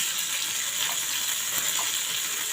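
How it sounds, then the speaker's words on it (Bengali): Pieces of katla fish fry in a pan with a steady, close sizzle and crackling hiss that holds constant throughout, with no voices. "তো মাছটা প্রথমে ভেজে নিলাম"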